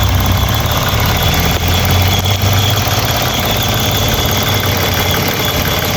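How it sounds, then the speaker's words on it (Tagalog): A Mitsubishi Mirage engine idles steadily in the morning, with a dense cricket-like mechanical rattle from underneath running below a low, constant hum throughout. "pagka medyo mahit na yung makina, may maingay na kumakalansing dun sa may"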